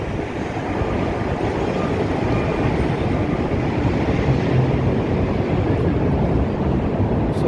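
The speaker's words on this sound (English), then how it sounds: "That's why you hear the trains. There's a train station here" Elevated trains rumble past a station at Lake Street and State Street in downtown Chicago, a loud, continuous low roar of rail traffic that fills the street scene without any talking.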